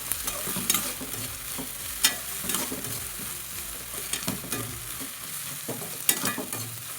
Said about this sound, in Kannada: ಈರುಳ್ಳಿ ಬ್ರೌನ್ ಕಲರ್ ಆಗೋವರೆಗೂ ಕ್ಲೀನಾಗಿ ಬಾಡಿಸಿ